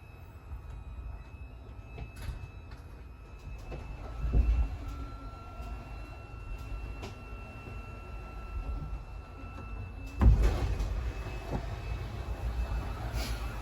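Hydraulic slide-outs extending on a 2022 Wildwood 42FLDL fiberglass RV: steady mechanical rumble with a low hum and a faint tonal whine, broken by a couple of louder clunks as something heavy slides outward.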